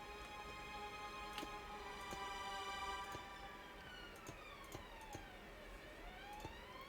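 Police sirens wail outside in the evening, several overlapping rising-and-falling tones sweeping up and down at a moderate distance, fairly quiet, with scattered clicks and no talking.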